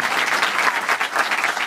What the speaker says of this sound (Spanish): Más aplauso, más aplauso.